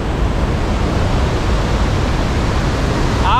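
Iguaçu Falls roaring close by from the walkway, a dense, steady rush of falling water with no letup, loud and continuous throughout.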